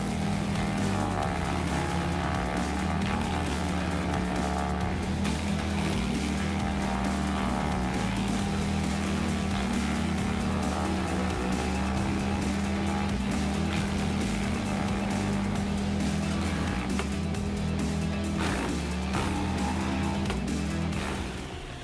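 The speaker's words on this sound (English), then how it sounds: "The important role of the Kubota SVL753 stump grinder in land management ensures accurate and fast tree stump removal" A Kubota SVL753 stump grinder grinds down a tree stump, a loud, steady engine drone with a deep pulsing throb and rough grinding noise running without pause, close by and with no talking.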